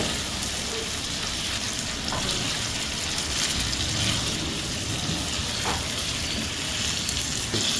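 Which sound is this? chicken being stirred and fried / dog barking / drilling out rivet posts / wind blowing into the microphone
chicken being stirred and fried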